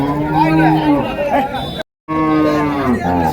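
Plough cattle low loudly at a busy cattle market in Vaniyambadi, two long, close moos separated by a brief break, with faint crowd chatter beneath.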